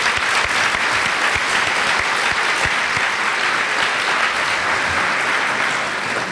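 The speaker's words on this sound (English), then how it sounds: "I applaud them, so join me," Audience at the NWTSJ 2013 education conference in Seattle applauding, a steady, dense wash of clapping from many hands that holds at even loudness throughout.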